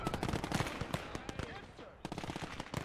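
StG assault rifle fire in the World War II strategy game Gates of Hell: Ostfront, rapid overlapping bursts of automatic gunfire, steady and dense with a brief lull before it resumes, and faint talk underneath.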